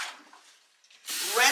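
Water rinsing a wash basin during perineal care, a short hissing spray that swells loudly after a quiet pause and carries on to the end.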